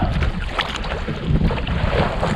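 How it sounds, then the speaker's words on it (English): Wind gusts buffet a small sailboat out on the water, a steady rushing roar with heavy low microphone buffeting and water wash beneath, loud and continuous with no voices. "the wind is going to give me a bit of a fight to stay in this one clear channel"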